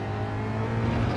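A Ford Mustang Gr.3 race car roars steadily under load on the Nürburgring Nordschleife in Gran Turismo 7, a loud, close engine drone that rises slightly in pitch. No voices.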